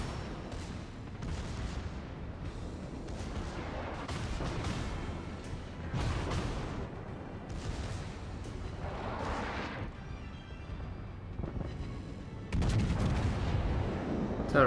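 Naval gunfire in World of Warships, a repeated series of heavy booming shots at irregular intervals over a continuous rumbling battle background, with a loud burst near the end.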